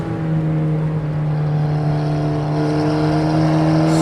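A car engine holds full throttle on a wet Nürburgring lap, a loud sustained steady-pitched drone with strong harmonic tones heard from inside the car, no voices.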